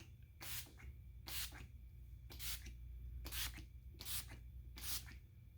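Six short hissing bursts of a setting spray, spaced roughly a second apart, close and crisp over a faint low hum.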